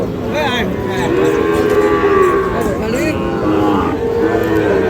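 Cattle and calves low repeatedly in a crowded cattle market, long drawn-out moos rising over a steady murmur of people talking.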